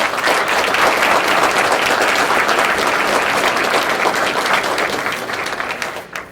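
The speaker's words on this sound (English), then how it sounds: "So a round of applause for the families that are here today." Audience applause at a fire department swearing-in ceremony, a dense, steady wash of many hands clapping loudly throughout and tapering off near the end, with no talk over it.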